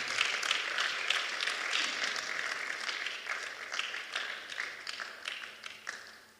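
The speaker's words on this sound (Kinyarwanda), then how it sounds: "mwonemera tukongera Imana yacu amashyi" Worshippers in a church clap in praise of God, a moderately quiet spread of overlapping handclaps that pulses unevenly and gradually fades toward the end.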